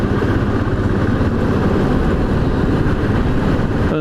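A loud, steady Royal Enfield Continental GT 535 café racer engine drones continuously with a rough low rumble, held under load climbing a highway hill without pause.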